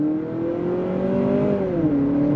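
A 2025 Honda CR-V Sport L Hybrid in sport mode accelerates on throttle, its engine drone rising steadily in pitch, then dipping briefly as if shifting, a smooth continuous hum heard from inside the cabin.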